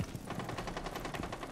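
Rapid gunfire from a shotgun in the tactical shooter Rainbow Six Siege, a dense run of sharp blasts that keeps going steadily with no pause across the whole short burst.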